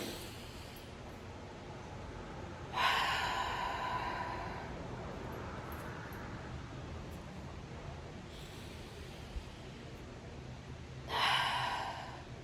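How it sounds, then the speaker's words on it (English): A few slow, deep breaths drawn in and let out, soft and close over a faint steady background hiss, with long quiet gaps between them and no talking. "I feel like I need to take a deep breath in."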